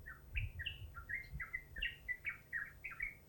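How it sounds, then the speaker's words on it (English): Several birds sing in bright, chirping phrases, repeated short tweets and trills close by over a low rumbling background, continuing steadily throughout with no voices. "the birds have all started singing"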